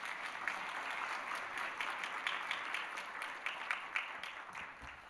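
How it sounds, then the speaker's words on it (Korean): Steady applause from a church congregation during a Sunday worship service, a broad wash of many hands clapping at moderate distance that holds evenly and fades slightly at the end. "큰 박수로 축하하겠습니다"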